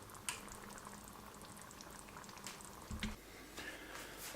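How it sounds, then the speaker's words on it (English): Spanish meatballs in tomato sauce simmer in a pot, a soft continuous bubbling with a few louder pops and a brief thump, close and quiet with no talking. "Oh, simmering nice and good."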